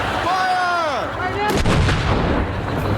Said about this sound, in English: we're gonna fire off a round for you